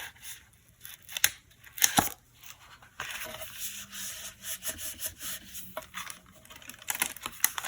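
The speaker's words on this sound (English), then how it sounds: "now I'm going to gradually peel off more and more of the backing and close up my card even more" Adhesive backing being peeled off a paper turkey pop-up card, giving soft dry rubbing and tearing rustles with a few sharper crackles, close and quiet throughout with no voice.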